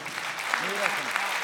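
An audience claps briefly at a comedy show, a short burst of applause with a voice speaking over it.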